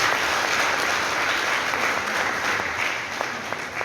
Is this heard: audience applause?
yes